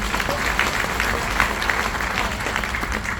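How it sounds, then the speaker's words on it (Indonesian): Audience at a PSMTI 25th-anniversary gathering in Indonesia breaks into steady, dense applause, a close, loud wash of many hands clapping without pause, with a few voices mixed in. "tepuk tangan untuk kita semuanya."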